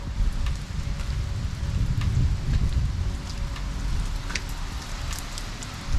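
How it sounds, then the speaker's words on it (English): Steady rain patters and hisses all around on a walk at Ebor Falls in Guy Fawkes River National Park, a dense continuous wash with scattered nearer drops and no talking. "Alright, we're out walking in the rain."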